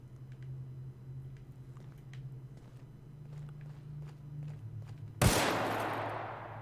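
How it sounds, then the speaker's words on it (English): A light machine gun Mark III in The Outer Worlds sounds once as a single loud burst near the end, trailing into a decaying roar, after quieter clicks and steps over a steady low hum. "Light machine gun Mark III. I like it."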